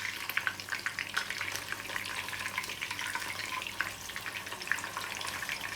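Raw minced-meat kebabs fry in a shallow pan of oil, a soft, even crackle with faint spits and pops running steadily at low volume, close by and without speech.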